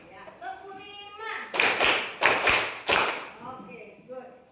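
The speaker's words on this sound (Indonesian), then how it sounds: "Tepuk 1, tepuk 2, tepuk 3, tepuk 4, ya, tepuk 5." An elementary school class in Indonesia claps in counted beats: roughly four sharp group claps, evenly spaced with a pause, while a teacher's voice is heard before and between them.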